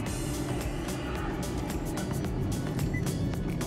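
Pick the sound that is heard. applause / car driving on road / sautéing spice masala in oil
car driving on road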